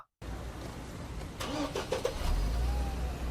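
A car engine runs steadily nearby through a short stretch after a silent start, a low rumble with a brief higher whine on top, no one speaking.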